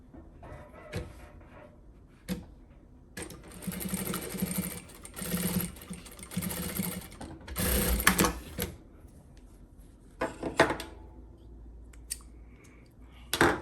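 A sewing machine stitches a storage bin in short, uneven bursts of whirring, mixed with sharp clicks and handling noises close by, with pauses between runs.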